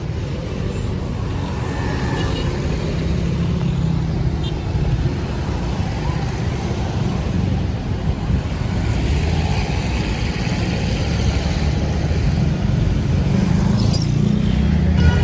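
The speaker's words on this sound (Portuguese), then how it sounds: "os carros não param nas passadeiras." Steady car traffic on a busy street in Marrakech, a loud continuous roadway rumble with passing vehicles close by, running throughout without pause.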